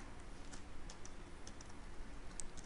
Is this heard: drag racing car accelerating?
no